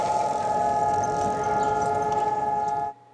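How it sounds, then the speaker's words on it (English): Air raid sirens sounding across Israel for Holocaust Remembrance Day, a steady sustained wail with low traffic rumble beneath, holding level for about three seconds before cutting off abruptly. "sirens marking Holocaust Remembrance Day brought people across the country to a halt"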